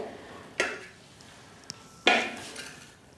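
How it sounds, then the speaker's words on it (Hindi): Two sharp knife strikes against a cutting board while trimming and cutting green beans, close and distinct with a faint tap between them. "इसके दोनों तरफ से थोड़े थोड़े किनारे निकाल कर इसको हम कट कर लेंगे"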